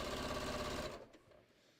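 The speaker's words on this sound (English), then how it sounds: "right now I'm just trying to get it sewn together" Close, steady whir of a sewing machine stitching a patio cushion cover with cording, running evenly for about a second before stopping and leaving faint room noise.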